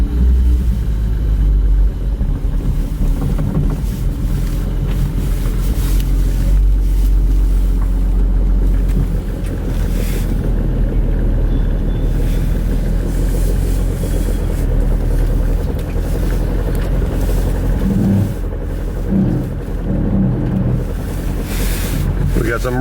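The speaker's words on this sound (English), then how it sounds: "it's going to be its first drive in a second" A Nissan Skyline R33 on its first drive gives a low, steady engine rumble heard from inside or close by, largely buried under heavy wind buffeting on the microphone, with brief surges throughout.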